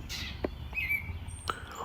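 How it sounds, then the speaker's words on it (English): Birds chirping outdoors in the background, a few short scattered calls and thin whistled notes, faint against the ambient outdoor hiss. "like the birds in the background trying to overpower my video"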